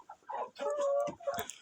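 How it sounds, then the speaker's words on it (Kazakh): A Barkovsky breed rooster and hens cluck close by in a backyard coop, a short burst of several overlapping throaty calls. "Себебі жаңадан қораз алып келдім, Барковский."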